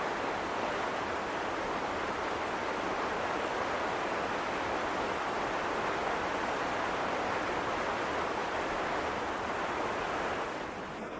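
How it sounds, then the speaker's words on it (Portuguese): The 180-metre Stigfossen waterfall beside the Trollstigen road in Norway roars in a steady, unbroken rush of water, even and continuous throughout, with no voices. "E bem atrás de nós, na cachoeira Stigfossen"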